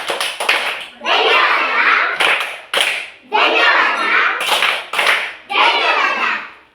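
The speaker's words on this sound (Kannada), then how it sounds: "ಧನ್ಯವಾದ ಚಪ್ಪಾಳೆ" Classroom children do a thank-you clap routine: bursts of rhythmic hand claps alternating with group chanting, near and loud, in repeated phrases.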